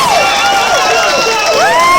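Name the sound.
audience applause and cheering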